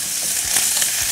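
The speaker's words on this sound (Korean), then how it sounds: "물기를 제거한 우엉은 넣어서 한번 볶아주세요" Drained burdock root stir-fries in hot cooking oil for a Korean braised burdock dish, a loud, dense, steady sizzle with faint stirring bumps underneath, close up and without speech.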